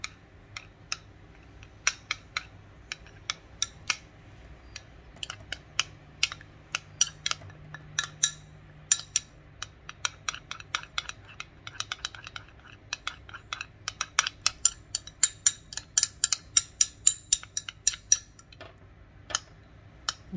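Repeated light clinks of a teaspoon against a bowl while stirring a lemon juice mixture, irregular quick taps growing denser toward the end, close and otherwise quiet.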